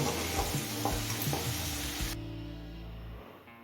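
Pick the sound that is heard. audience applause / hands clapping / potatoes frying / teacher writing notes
potatoes frying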